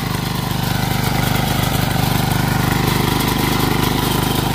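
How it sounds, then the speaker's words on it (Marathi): A small 5 hp diesel engine chugs loudly and steadily up close, a continuous rhythmic throb of a power weeder tilling between brinjal plants. "एकदम चांगल्या प्रकारे हे मशीन मशागत करतंय"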